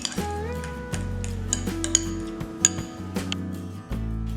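A spoon mixes a banana and honey face pack in a bowl, producing a series of light irregular clinks and scrapes against the dish over a steady tonal hum in the background.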